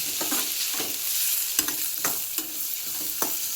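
Raw mango pieces fry in hot oil in a pan while being stirred, a soft continuous sizzle broken by repeated scraping strokes of the spoon, close and fairly quiet, with no talking.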